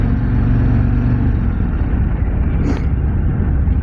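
A 2024 Harley-Davidson Street Glide motorcycle rolls along at low speed with a continuous, close engine drone mixed with road and wind noise. The level stays fairly even, with no talking.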